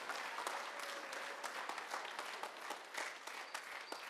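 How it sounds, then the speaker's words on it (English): An audience at a middle school band concert gives a round of applause, with many close, crisp individual claps forming a busy, continuous patter. "a nice round of applause"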